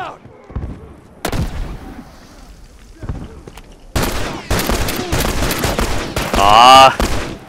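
Several sharp rifle shots ring out from a Frontier Rifle in The Last of Us multiplayer, with loud broadband bursts spaced irregularly and a dense flurry toward the end, mixed with game sounds and a talking voice.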